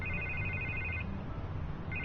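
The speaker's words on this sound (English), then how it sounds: "I can't get the phone to stop ringing" A telephone rings in a Batman Telltale Series scene, two electronic ring bursts separated by a brief pause over a low background hum, fairly quiet and with no voices.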